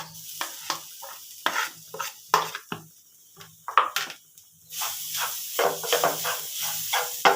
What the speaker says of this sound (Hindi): अब डाल देंगे इसमें हम अपनी हरी मटर का ये पेस्ट।